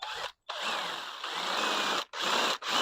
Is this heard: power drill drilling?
yes